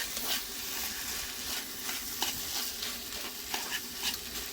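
Rice stir-fries in a pan with beaten egg and canned fish, a dense steady sizzle with rhythmic spatula scrapes and taps, loud and close.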